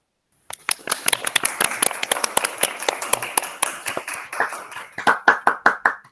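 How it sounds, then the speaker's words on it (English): Scattered applause at a school welcome ceremony for an international culture fair. It is loose and uneven, building from a few sharp individual claps to a ragged crowd of hands, then settling into distinct, rhythmic claps near the end. "give them a round of applause"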